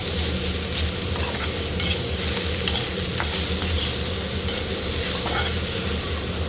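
Okra sautés in a pan with garlic, green chili, salt and a little sugar, a dense steady sizzle with occasional stirring scrapes, close and fairly loud throughout.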